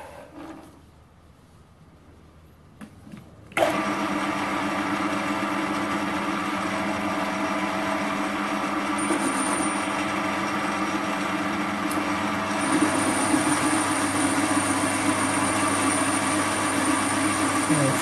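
A lathe cutting medium-grade mild steel with a Korloy TCMT carbide insert at medium feed: after a quiet start the machine spins up abruptly into a steady, loud whirring drone with a thin high whine, continuing unbroken to the end.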